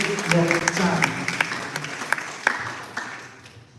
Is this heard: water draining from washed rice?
no